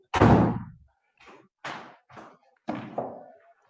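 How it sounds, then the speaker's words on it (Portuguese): A house door being opened at home during an online seminar, giving a sharp thunk followed by a few softer knocks and a final clunk, fairly close with no speech. "preciso abrir a porta aqui"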